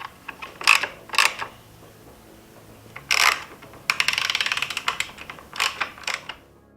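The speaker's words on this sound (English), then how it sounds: "We've got our 10mm fastener for the top of both the plastic covers." A hand ratchet clicks while turning a 10mm fastener on the plastic cover of a Yamaha XSR motorcycle, with short bursts of rapid pawl ticks and a longer ratcheting run, close and clear with no talking.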